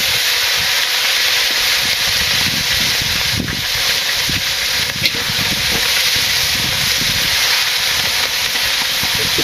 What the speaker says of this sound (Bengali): এখন মাছ ভাজবো।